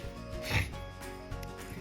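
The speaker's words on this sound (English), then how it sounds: "I don't mean to be sniffling so much" One brief nasal sniffle, close and soft, over a faint background of rustling while someone works on a feather.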